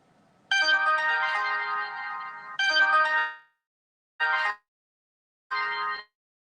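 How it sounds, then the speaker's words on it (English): A mobile phone ringtone plays in a quiet trailer. Two long, bright melodic rings are followed by two shorter bursts, loud and close with silence between them. "I'm over here doing something on my phone, and it's a deling deling."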